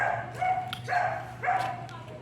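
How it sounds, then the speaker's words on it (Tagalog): A dog barks several times close by, in spaced, sharp bursts with a quieter background hum. "Grabe tahol dito."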